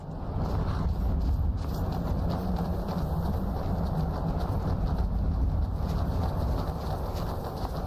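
Horse hooves clip-clopping at a steady walking rhythm in Skyrim, heard under a constant dense outdoor ambience with bird calls, moderately loud and continuous.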